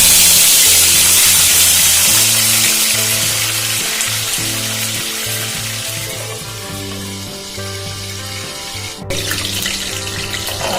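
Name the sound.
whole spices sizzling in hot oil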